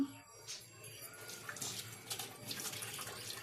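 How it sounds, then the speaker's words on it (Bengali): Hot water from a geyser tap runs and splashes while dishes are scrubbed in a sink, a steady close hiss of flowing water with small clinks and splashes layered over it. "চলো গিজারের গরম জল দিয়ে থালা ঘটে মেজে নিই"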